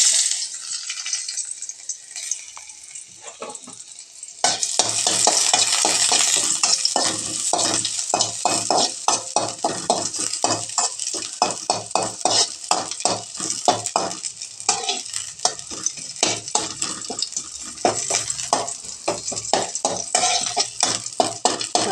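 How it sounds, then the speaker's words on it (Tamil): Small onions frying in coconut oil and stirred with a utensil; after a quiet start, a loud sizzle sets in, broken by frequent rhythmic scraping strokes against the pan, with no speech. "நல்லா இதே மாதிரி வணக்கி விட்டுட்டு நல்லா ஃப்ரை பண்ணிட்டோம்."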